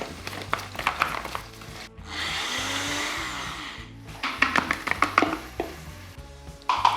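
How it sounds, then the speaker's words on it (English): A blender grinds whole walnuts into a fine powder for an Iranian pomegranate stew, a steady, loud whir of about two seconds set between clattering kitchen knocks and taps. "we need to take some walnuts whole and grind them down until they're kind of like a fine powder"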